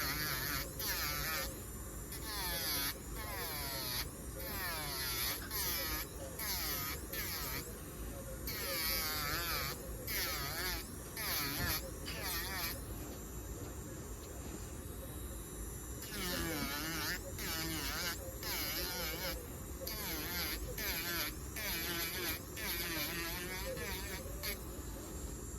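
An electric nail file grinds down fresh acrylic on toenails during a pedicure, a steady high buzzing drone that holds through most of the stretch with brief pauses and shifts in pitch as the bit moves.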